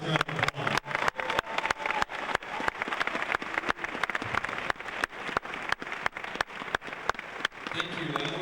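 An audience applauds steadily, a dense wash of clapping throughout, with a few louder sharp claps standing out near the front.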